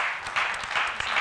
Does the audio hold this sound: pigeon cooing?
no